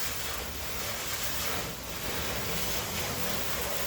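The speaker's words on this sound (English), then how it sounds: "I'm gonna go ahead and just get some water on it," Garden hose spraying water over the dusty body of a 1965 Mustang, a steady broadband hiss that stays loud and continuous throughout with a brief dip midway, no talking.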